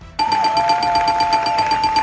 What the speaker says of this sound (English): let me get back to the buzzer and see where the lights go to next.